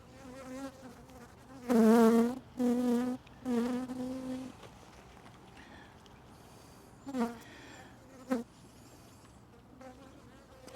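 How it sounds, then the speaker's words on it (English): Honeybees buzz around an open hive during an inspection, a steady insect drone swelling into a few louder, closer bursts of buzzing as bees fly near, then settling back to a low hum. "there's a few more bees on me now"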